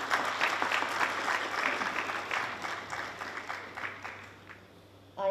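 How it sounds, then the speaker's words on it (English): Audience applause at a seminar session after a panel of speakers, a steady wash of clapping that gradually thins and fades toward the end. "please give a round of applause for both the speakers"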